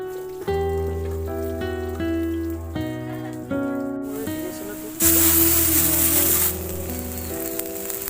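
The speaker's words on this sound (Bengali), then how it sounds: "তেল গরম হয়ে গেছে, আলুগুলো ভেজে নেব" Potatoes frying in hot oil for a chicken khichuri, a steady sizzling crackle that surges louder partway through, with tonal music playing over it.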